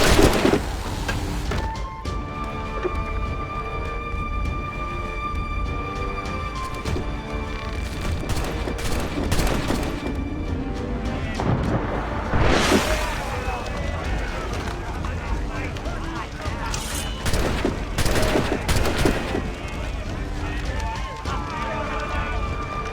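Cannon and musket fire rumble through a naval battle in the video game Assassin's Creed Rogue, with booming blasts and crackling volleys layered over a dense, continuous game soundscape and shouting voices.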